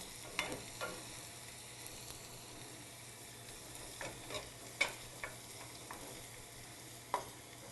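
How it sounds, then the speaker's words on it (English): Garlic frying in olive oil while being stirred, a soft continuous sizzle with occasional light spoon taps and scrapes against the pan, fairly quiet, over a faint steady hum, no talking. "Let's just give it a stir."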